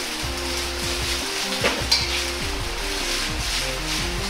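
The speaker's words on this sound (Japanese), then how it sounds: "焼きそばをこんがりと焼いていきます。" Yakisoba noodles frying and browning in a pan, a steady loud sizzle with repeated scraping strokes of a spatula across the pan surface throughout.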